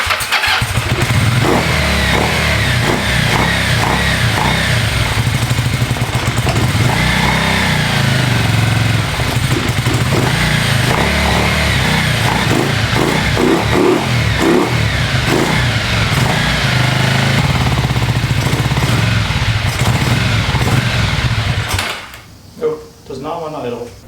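A Yamaha XZ550 motorcycle engine runs steadily after a hard start, a loud continuous rumble that holds for over twenty seconds before cutting out near the end.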